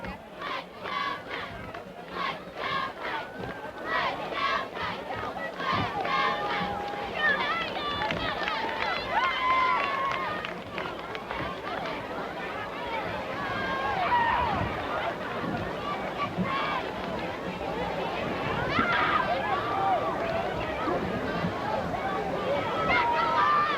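A football stadium crowd roars and cheers at a Knights game, a broad, sustained wash of many distant voices with swelling shouts rising and falling throughout, while people talk nearby over it.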